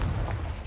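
A Confringo fire spell blasts in Hogwarts Legacy, a short booming explosion with a low rumble that fills under a second, loud and close with no talk over it.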